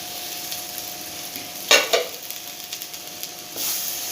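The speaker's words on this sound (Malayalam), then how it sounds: "ഇനി ഇതിലേക്ക് നമുക്ക് കറിവേപ്പില ഇട്ട് കൊടുക്കാം" Curry leaves dropped into a hot pan for a Kerala-style chicken roast burst into a loud, sharp sizzle that quickly fades, with faint stirring afterward and another brief crackle near the end.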